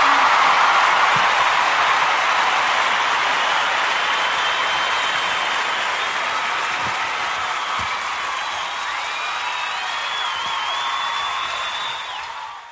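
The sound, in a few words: congregation applauding in church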